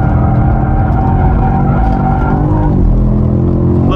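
Performance car, an Audi RS5 or BMW M5, sliding sideways on a race track, engine droning loud and steady with a harmonic shift partway through, close and continuous.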